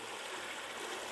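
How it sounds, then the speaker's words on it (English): Falling Water Creek on the Ozark Highlands Trail flows steadily, a soft continuous rushing and trickling of stream water, fairly faint and with no voices. "I made it down to Falling Water Creek"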